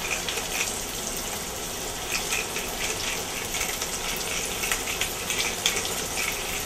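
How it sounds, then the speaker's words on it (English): Tomatoes fry in a hot pan, giving a steady dense sizzle with scattered sharp pops and crackles throughout, close and fairly loud with no talking. "You hear that? That's the tomatoes popping."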